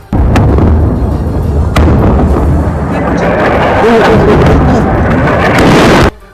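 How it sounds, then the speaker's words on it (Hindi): Loud explosions boom across Tehran at night during an Israeli airstrike: sharp blasts near the start, then a heavy rolling rumble that fills the air before cutting off. "इजराइल के हमले के दौरान तेहरान में रात के वक्त धमाकों की भीषण आवाजें सुनाई दी।"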